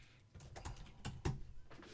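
Someone types on a computer keyboard while writing code: quiet, irregular clusters of keystrokes tapping close by, with no voices.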